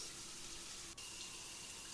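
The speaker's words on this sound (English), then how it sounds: "Fill up the trash bin with water from the sink." Water running steadily from a sink tap into a trash bin in the puzzle game Adventure Escape Mysteries, a constant hissing stream with no talk.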